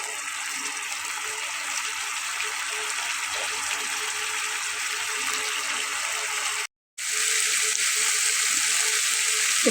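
Ground spice paste, loosened with a little water, fries in a pan for a Bengali pabda fish curry, giving a steady close sizzle and bubbling hiss that continues throughout with a brief cut to silence near the end.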